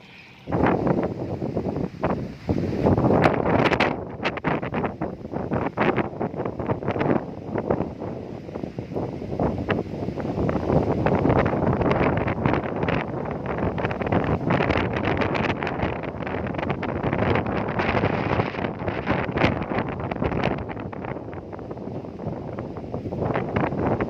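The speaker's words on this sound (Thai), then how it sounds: "ลมพายุแรงมากนะครับ" Strong storm wind after rain and a hailstorm at a dug farm plot in Mae Wang, Chiang Mai, roars in loud, continuous gusts that buffet the microphone throughout, with no speech.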